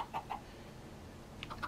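A few soft Minecraft chicken clucks open the moment, then a quiet gap before two or three more clucks near the end, faint and alone with no voices.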